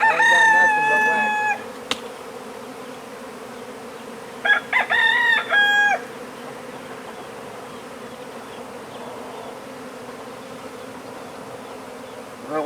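Agitated bees buzz around a disturbed hive in a steady, low drone close by, while a rooster crows twice in the background.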